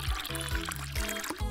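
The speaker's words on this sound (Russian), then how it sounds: "Заливаем воду из розового моря." Water pours into a pool in a cartoon mermaid video game, a series of short splashing gurgles with brief pauses, close and moderately loud, with game music over it.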